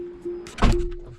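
The electric doors of a Tesla move with a steady motor hum, then close with a dull thunk, all fairly close and moderately loud.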